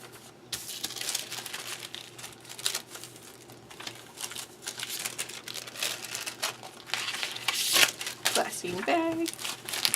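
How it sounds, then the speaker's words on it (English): A glassine bag crinkles and rustles as it is handled while crafting a junk journal from a record album cover, with steady close crackling throughout, rising near the end. "Glassine bag."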